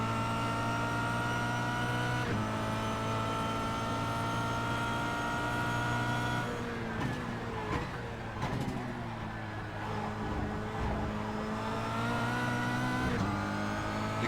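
Kia Cup race car engine at Interlagos, a loud steady in-car drone with strong harmonic whine, shifting pitch through gear changes and braking, mid-run dips and rises, continuous with no talk.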